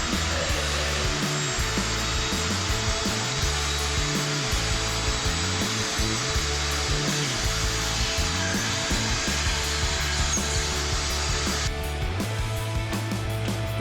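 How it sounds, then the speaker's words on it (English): Shop vac sucking up leftover debris during a Weiand/B&M 144 supercharger install on a small-block Chevy-powered Jaguar XJS, a loud steady whine and roar with shifting low rumble as the hose moves, running continuously and alone. "You can use a shop vac with a smaller hose shoved in the end to reach any smaller areas that you can't get to."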